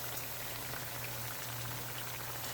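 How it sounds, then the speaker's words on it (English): Bammy, a Jamaican cassava flatbread, fries steadily in a hot pan beside saltfish cook-up, giving a soft continuous sizzle and crackle with no talk. "let it continue frying."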